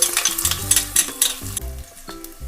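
Oil sizzles steadily while garlic-ginger paste is stirred and fried with cumin in a pan, with irregular scraping bursts over a continuous hiss, close and moderately loud.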